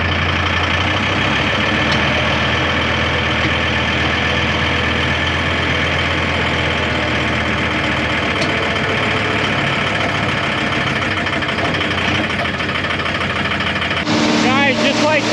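John Deere 4430 blower tractor engine running loud and close on a farm, a steady continuous drone with the pitch and rumble changing abruptly near the end.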